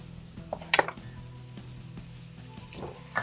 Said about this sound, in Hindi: ये हमने आलू डाल दिए हैं इसमें।